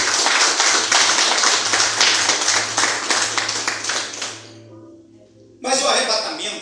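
A church congregation claps for Jesus during a Portuguese-language sermon, a burst of loud, rhythmic close handclaps over a low hum that fades out, then resumes sharply near the end.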